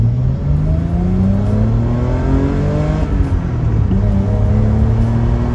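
A BMW 333i engine revs loudly from close range, its tone rising and falling as the car accelerates, with a steady rumble underneath and no talking.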